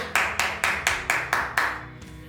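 A single person claps six times in an even, steady rhythm, each clap sharp and close, then stops. The clapping thanks a technician during a church service streamed to people at home.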